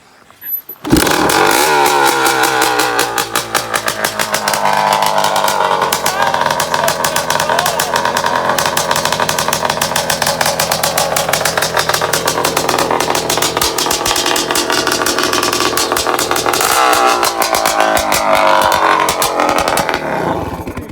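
Kawasaki KX 500 two-stroke motorcycle with an aluminum frame conversion, ridden and revved hard: a loud, continuous buzzing engine note holding steady for about twenty seconds, with rising and falling revs and a voice faintly underneath.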